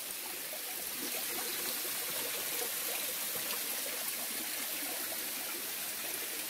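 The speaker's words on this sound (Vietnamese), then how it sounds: "chỗ trước mặt mình là một cái thác mọi người" Rushing water from a tall jungle waterfall fills the scene with a steady, dense hiss and roar, continuous and even throughout, heard alone at a moderate distance.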